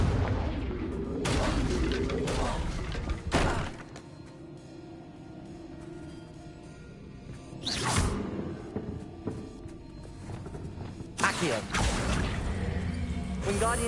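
Confringo fire blast spell in Hogwarts Legacy, a few loud bursting blasts with whooshing tails separated by quieter stretches, alongside a voice speaking.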